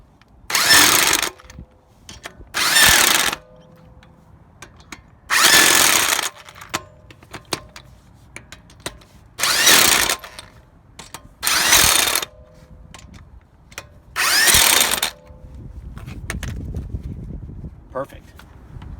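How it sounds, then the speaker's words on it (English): A Chicago Electric 120V electric impact wrench fires in six loud rattling bursts of about a second each while tightening wheel nuts, separated by short quiet pauses with faint background noise. "And then we'll come in now with the impact wrench. Tighten them up, see how that goes."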